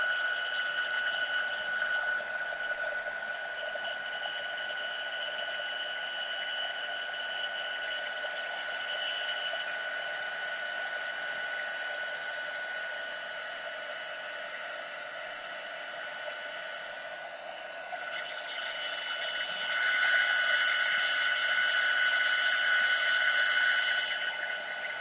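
Hair dryer blowing steadily to dry wet chalk paint on a stenciled craft piece, a loud continuous whooshing drone held close for the whole stretch, swelling slightly louder toward the end, with no talking.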